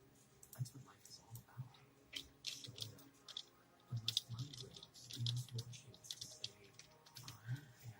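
Fingers tap keywords on a computer keyboard in quick irregular bursts of close clicking, with a voice murmuring faintly underneath.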